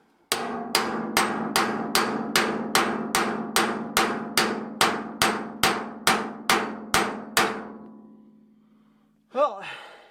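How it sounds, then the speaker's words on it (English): A hammer drives a cold chisel against a wheelbarrow's metal, about fifteen evenly spaced ringing strikes in a steady rhythm, loud and close, each one leaving a short metallic ring. A brief voice follows at the end. "let's try a hammer and a cold chisel."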